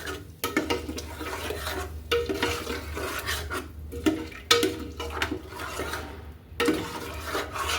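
A spoon scrapes and stirs khapsa masala into chicken in a hot pan with the stove switched off. The scraping comes in steady, repeated strokes, close and fairly loud, with no talking.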